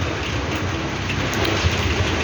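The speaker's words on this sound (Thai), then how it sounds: "ติดฝนไปไม่ได้เลย ฝนตกแรงด้วย" Heavy rain pours steadily in a dense, constant hiss with no pauses, close by and fairly loud, and no one speaks.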